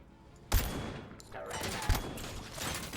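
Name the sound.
gunfire in Robocop Rogue City video game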